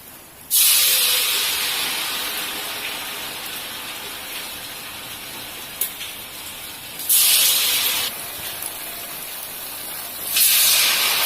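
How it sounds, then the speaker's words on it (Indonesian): Fried pumpkin cake dough balls hit hot oil with a loud sizzling hiss that swells sharply at each new drop, settles to a steady bubbling spray, then surges again twice more, with no talking. "Nah setelah itu kita akan goreng."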